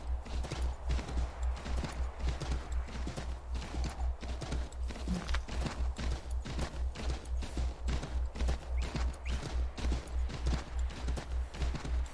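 Galloping horse hooves from the video game Assassin's Creed III, a steady, rapid clip-clop rhythm that carries on unbroken and prominent throughout over a low rumbling game backdrop.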